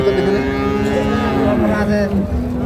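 A dairy cow or calf at a cattle market of farm-bred dairy cows and calves, lowing loudly and close up in one long, drawn-out moo with engine-like background hum.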